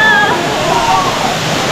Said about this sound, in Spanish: qué hermosa esta catarata, mira esta cascada